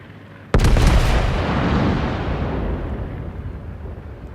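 A battleship's main guns fire in the naval combat game World of Warships, one sudden loud boom followed by a long rumbling decay, with no talk.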